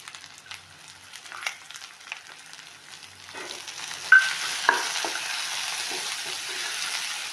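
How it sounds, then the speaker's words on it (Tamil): Onions fry in oil for a prawn gravy and are stirred now and then with a few scraping taps, the gentle sizzle growing louder and steadier partway through, close up with no talking. "இந்த டைமில் நம்ம வெங்காயம் போட்டுக்கிறோம்"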